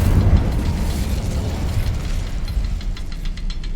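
The Incendio fire spell is cast in Hogwarts Legacy, producing a dense rumbling whoosh of flame with crackling and popping. It is loud and sustained, then thins out toward the end.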